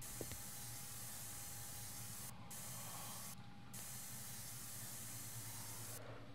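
Spray painting in the horror video game Erie comes through as a steady, quiet aerosol hiss that runs almost without a break, with a brief faint click near the start.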